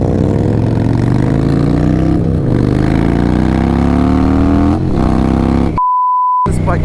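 A motorcycle engine runs steadily while riding, its pitch slowly rising as the bike speeds up, with a brief dip around the middle and a short electronic beep near the end.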